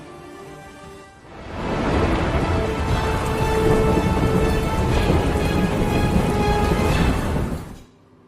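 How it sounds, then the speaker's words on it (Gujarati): Heavy monsoon rain roars in suddenly and pours steadily, with deep rumbling thunder mixed in, then cuts off near the end. "ચોમાસાએ ધોધમાર મહેર વરસાવી"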